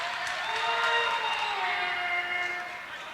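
Crowd at a girls' high school basketball game cheering steadily in a gym, a sustained wash of voices for about three seconds at moderate distance.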